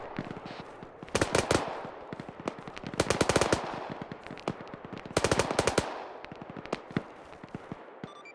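Sustained machine gun fire from the video game Arma comes in several loud, rapid bursts separated by scattered single shots. The bursts are sharp and close, with no voices over them.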